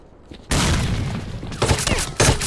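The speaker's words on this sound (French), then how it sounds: "c'est une grenade" A grenade blast in the video game S.T.A.L.K.E.R. Clear Sky hits suddenly and loud, then gives way to a rumbling tail with further bursts of gunfire-like crackle, close and dense with no talk over it.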